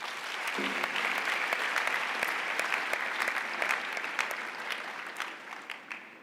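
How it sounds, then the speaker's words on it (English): A large crowd at a university campus opening ceremony claps in loud, sustained applause that carries on for several seconds before tapering off. "give yourself a huge round of applause"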